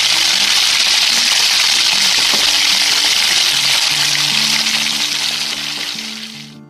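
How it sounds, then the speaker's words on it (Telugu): Half a kilo of ivy gourd (kandanakaya) fries in hot oil in a kadai, a loud, dense, close sizzle that holds steady and then fades toward the end. "ఆయిల్ కొంచెం హీట్ అయిన తర్వాత శుభ్రంగా కడిగిన కందనకాయని 1/2 kg వేసుకుని"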